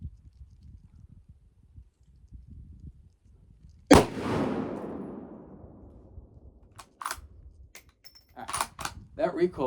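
A single loud gunshot from a .450 Bushmaster rifle fired at a 25-yard range rings out sharply and decays over a couple of seconds, followed by faint clicks and handling noises.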